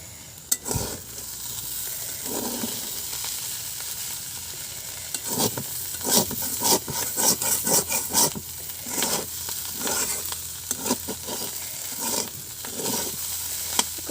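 Bitter gourd and potato being pan-fried, with a steady sizzle under repeated scraping and stirring strokes of a spatula against the pan, close and moderately loud throughout with no talking.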